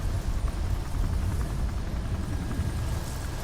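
A helicopter in the Resident Evil 4 remake makes a steady, loud rotor and engine drone, a dense continuous rumble heard alone for a few seconds.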